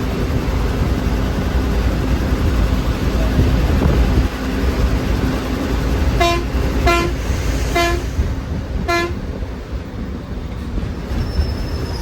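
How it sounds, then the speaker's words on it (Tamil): A bus horn honks four times in quick succession over the steady roar of a fast intercity bus running between Cuddalore and Pondicherry, each toot short and bright against the continuous engine and road rumble. "ஹாரன் அடிச்சுக்கிட்டே இருக்காரு"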